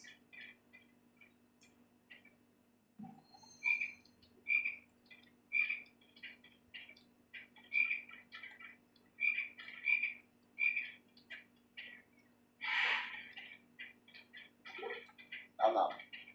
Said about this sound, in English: You have to knock the frog out before you can catch it.